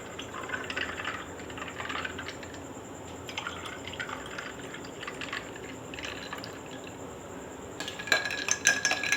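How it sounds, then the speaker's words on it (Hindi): Chilled water trickles and drips into a glass over mint syrup, with light clinks of glass and utensils near the end, fairly quiet and without talk. "पानी डालूँगी, चिल वाटर।"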